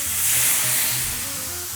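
Water poured into a hot pan of bacon fat and onions, a short burst of bright hissing sizzle that swells and then settles, close and loud.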